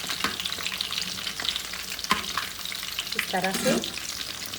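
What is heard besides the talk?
Dhaka chicken frying on medium-low flame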